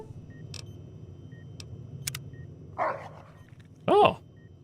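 Rex, a dog in Fallout: New Vegas, lets out two loud close barks near the end, breaking an otherwise quiet stretch of faint clicks and soft background tones.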